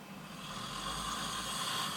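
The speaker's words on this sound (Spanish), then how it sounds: "Ese ronquido es la expresión de ese paso turbulento del aire." A person snores continuously, with rough, turbulent breathing from air forced through a narrowed airway, close and fairly loud with no speech.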